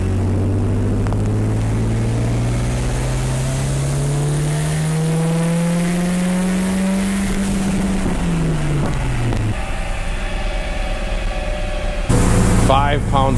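A turbocharged B16 VTEC engine in a Honda Del Sol revs hard on a dyno, its loud tone rising steadily through a long pull before dropping off, followed by rumbling idle and a sharp burst of mechanical noise at the end.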